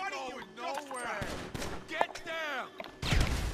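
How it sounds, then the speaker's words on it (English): Several grenade blasts and bursts of gunfire from GTA, a crime video game, landing as sharp booms and crackling volleys over a low rumble, with voices talking throughout and a louder crunching blast near the end. "I'm going to throw some grenades in"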